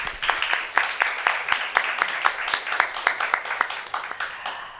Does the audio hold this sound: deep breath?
no